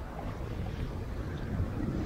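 Sailboat moving under sail at 4 to 5 knots, with wind buffeting the microphone and a steady low rush of water against the hull.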